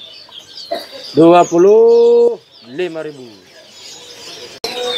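Caged birds at a bird market, including Sumatran prinias, call and chirp close by, with one loud sustained harmonic call in the middle and a voice speaking briefly.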